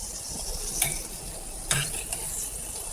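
A spoon stirs tomato into pink-cooked frying onions in a pan, with a soft steady sizzle underneath and a few brighter scrapes and clinks of utensil against the pan, close by.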